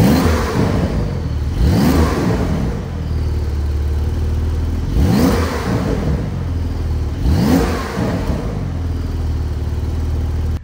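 A Porsche 911 engine, held by a 3,000 rpm limiter while parked, is revved three times in a row, each loud rise and fall swelling over a steady idle, with faint exhaust crackle; no one speaks.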